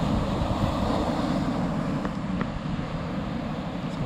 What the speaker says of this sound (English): This water just really looks so nice. It's clean. Waves are not too crazy today.